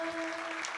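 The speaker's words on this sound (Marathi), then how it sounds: "टाळी टाळी टाळी." An audience claps together at a devotional kirtan gathering. The clapping is dense and continuous and fairly close, with a steady sustained tone running beneath it.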